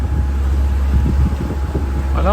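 Strong 20 to 25 knot headwind at sea off the Greek island of Euboea, with steady waves on the bow of a cruising sailboat; a loud, constant low roar and buffeting wind rumble fill the whole stretch.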